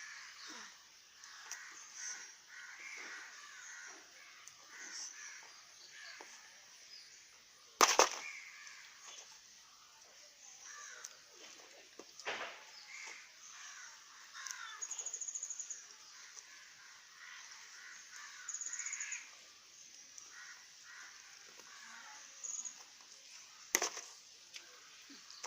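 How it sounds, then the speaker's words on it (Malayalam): Crows caw in scattered, fairly faint calls outdoors, with a couple of sharp knocks breaking the steady background; no one speaks. "കാക്ക വരാനായിരിക്കണം"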